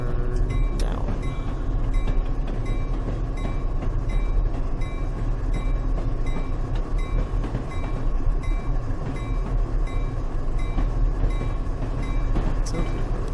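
A BNSF freight train rolls along the rails with a steady, dense rumble and rattle of wagons, heard from nearby over about thirteen seconds, with faint metallic clicks and brief squeals standing out now and then.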